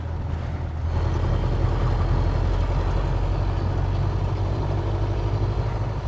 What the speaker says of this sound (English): it's so noisy in here because everything's wanting to fall off and the gearbox feels like it wants to rip teeth off the cogs